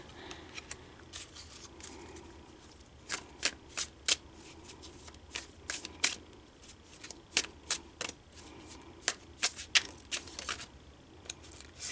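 Tarot cards being handled and shuffled: a steady run of crisp, close riffling snaps and slaps, some bursts louder than others, with a faint room background and no talking.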